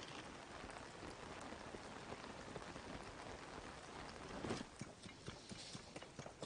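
Steady rain pattering over an outdoor landscape in the video game Zelda: Tears of the Kingdom, a constant even hiss with soft hoof-like clops and a slight swell near the end, no talk.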